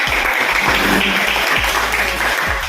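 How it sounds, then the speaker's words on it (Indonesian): Classroom audience applauding after a student presentation at a school coaching session, steady dense clapping throughout with a few low thumps, close and loud. "Give a applause."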